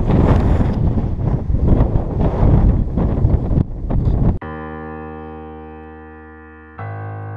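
Strong wind buffets the microphone on Steptoe Butte in loud, gusty rumbles for about four seconds before giving way to a steady electronic tone.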